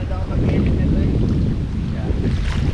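Strong wind roars across a microphone on a small fishing boat at sea, a loud, continuous buffeting rumble with waves and water wash underneath.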